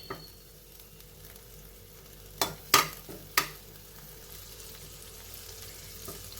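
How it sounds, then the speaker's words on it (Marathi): A bay leaf sautés in butter in a pan for a mung and corn soup, a soft low sizzle broken by three sharp clanks of a spoon against the pan midway. "आता हे तमालपत्र याच्यामध्ये थोडंसं परतून घेते"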